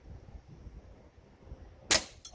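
A single sharp crack from a Tokyo Marui full-size USP airsoft pistol firing, one close, abrupt report after a moment of low background rumble.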